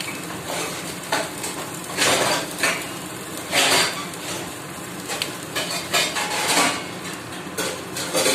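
A covered cooking pot shaken by hand on the stove, producing repeated bursts of rattling and scraping as the food tumbles inside, with a sizzle between the shakes, close and fairly loud.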